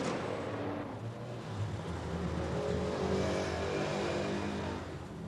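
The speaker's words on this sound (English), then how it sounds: "both the van and the car drove off, turning into Broad Green Road" A stolen post van and a large white car pull away together and drive off, a steady close engine rumble with rising revs holding at a constant level throughout, no voices.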